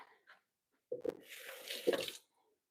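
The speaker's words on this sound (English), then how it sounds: "Let me wash my hands real quick." Tap water runs into a kitchen sink for a brief hand wash, a soft broadband rush lasting about a second and a half after a couple of faint knocks, fairly close and alone.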